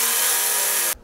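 A small Tekhmann cordless battery chainsaw cuts through a log with a loud, steady, high-pitched whine and buzz that stops abruptly at the end.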